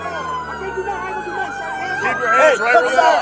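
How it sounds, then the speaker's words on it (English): Police car sirens wailing close by, sweeping rising and falling tones layered with several overlapping sirens, while someone shouts commands over them. "Sirens, cut the sirens."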